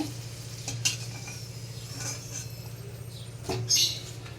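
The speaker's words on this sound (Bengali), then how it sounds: "এতে দুটো তেজপাতা ফোড়ন দেবো তেজপাতা দুটো ফোড়ন দিয়ে দিলাম" Two bay leaves dropped into hot oil in a pan while cooking a Bengali chicken dish, giving a steady close sizzle with light crackles, a low hum underneath and a few brief clinks, with no talk.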